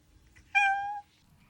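A single clear meow from Pilja, a house cat, lasting about half a second, sharp and close against a quiet room.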